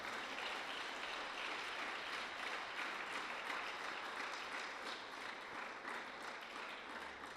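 A church congregation applauds. Dense, continuous clapping from many people fills the space evenly from start to finish without a break.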